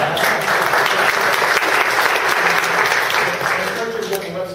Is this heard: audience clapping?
yes